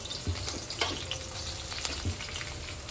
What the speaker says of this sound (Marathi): चला आपल्या भेंडीच्या भाजीचं फोडणी चालू आहे.